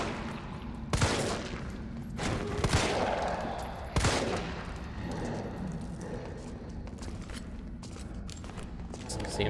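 Gunfire in Resident Evil 3 on PC: several sharp, loud shots at irregular intervals, with a dense rumbling game soundscape running steadily underneath.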